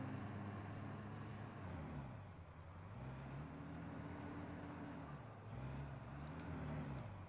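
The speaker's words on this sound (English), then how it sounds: "I can hear a truck just doing the worst it can ever to get out of it, to drive through something" A truck in the Satisfactory video game strains to drive through an obstacle, its low engine drone rising and falling in pitch as it revs. The sound is faint and steady, with no talking.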